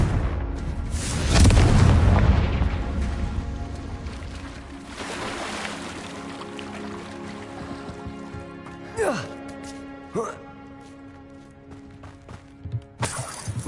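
A Confringo fire spell bursts in the Hogwarts Legacy video game, a loud booming explosion with a rumbling tail, followed later by sharper whooshing spell effects.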